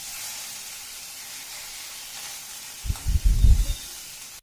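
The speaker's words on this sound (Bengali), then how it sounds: "আমি প্রথমে কড়াইতে আমি মাছগুলোকে আগে ভেজে নিচ্ছি এক এক করে, দু পিঠ দিয়ে হালকা করে একটু ভেজে নিচ্ছি সর্ষের তেলে" Fish frying one piece at a time in mustard oil in a wok gives a soft steady sizzle, with a brief burst of louder spattering near the end.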